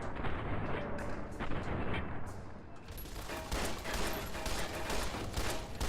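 Dense, continuous enemy gunfire and booming shots from the video game Fallout New Vegas, loud and sustained across the whole stretch with rapid bursts, with faint voice underneath.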